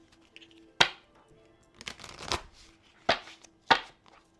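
Several crisp riffling bursts of tarot cards being shuffled, close by, with short pauses between them and a faint steady hum underneath.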